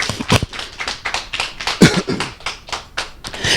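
A church congregation claps together in quick, steady applause, close and fairly loud, with a few louder individual claps rising above the rest and no clear speech.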